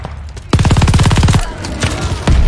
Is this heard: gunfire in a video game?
yes